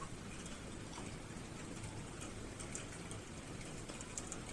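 Steady rain falling outdoors, a soft continuous hiss of drops with faint scattered patter, quiet and even throughout with no voices.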